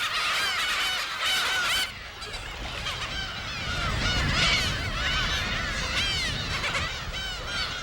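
A colony of black-tailed gulls calls constantly nearby on an uninhabited island, harsh overlapping honking and mewing cries layered over one another.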